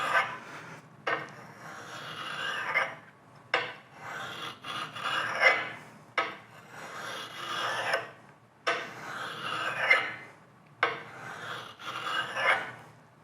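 A non-precision ground sharpening stone hones the radius on small metal parts, making steady rasping strokes in repeated back-and-forth bursts with short pauses, close and fairly quiet, with no talking.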